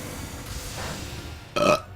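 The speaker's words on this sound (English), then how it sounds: "Ooh, God, I've got the burps, yo." A single loud, short burp bursts out near the end, following a stretch of low room noise.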